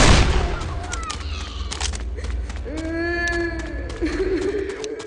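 Gunfire in a Dark Tower Gunslinger video game, a dense burst of shots over a rumbling battle din with frantic shouting voices, followed by a sustained rising and falling mechanical whine.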